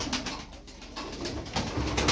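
Twelve pigeons cooing and fluttering in a loft, a steady low murmur of birds with soft wing rustles and shuffling throughout.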